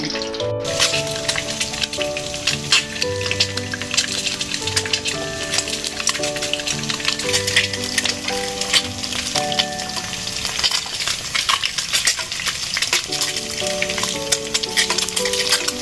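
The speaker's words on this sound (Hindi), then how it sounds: "हमने अंडे ऑयल गर्म कर लिया था और इसमें हमने अंडे को फ्राई करना है।" Eggs fry in hot oil in a pan, a dense, steady crackling sizzle that fills the whole stretch with faint background music and no talk.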